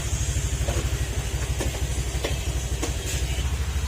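An engine runs after a timing repair that had been set wrong, with a steady, rhythmic low throb and a faint hiss. It sounds close and continuous, with no talking.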